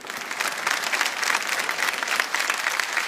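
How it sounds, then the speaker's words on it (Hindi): Steady, dense applause from a large studio audience fills the hall at the grand finale of a televised Indian folk reality show, sustained and loud throughout without a break. "देवो सर के लिए जोरदार तालियां"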